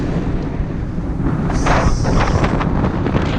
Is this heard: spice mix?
no